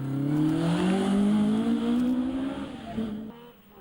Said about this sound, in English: Car 8, the Rothmans escort of Kerry Michael.